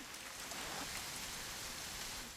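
Steady rain falls in the video game What Remains of Edith Finch, a dense, even hiss that continues without a break and with no voices.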